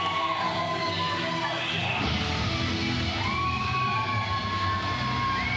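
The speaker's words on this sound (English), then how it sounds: "Crowd getting fired up right now." A wrestling crowd at a local show yells, whoops and cheers steadily as a tag team heads to the ring, a continuous dense roar with rising shouted calls throughout.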